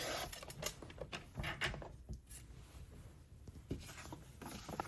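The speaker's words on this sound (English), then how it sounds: "I'm going to cut off just a sliver here on the bottom" A paper trimmer's scoring blade slices a thin sliver off the bottom of a paper envelope, producing close, soft scratchy rasps and brief sliding strokes at uneven intervals.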